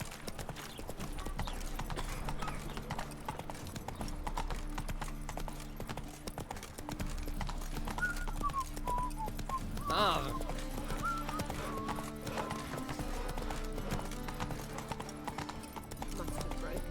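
Roach the horse galloping in The Witcher 3, steady rapid hoofbeats throughout with a brief whinny midway, under game background music and characters talking.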